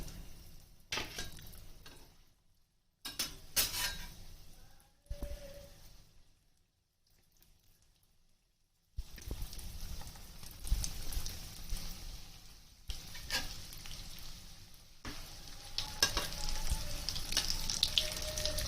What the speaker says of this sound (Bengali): এবার আমি চপগুলো আস্তে আস্তে ছাড়ছি।